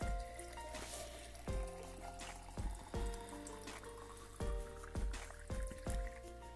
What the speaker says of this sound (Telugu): ఇలా పిల్లలకి 2 బాటిల్స్లో వాటర్ నింపేస్తాను స్కూల్కి తీసుకెళ్ళడానికి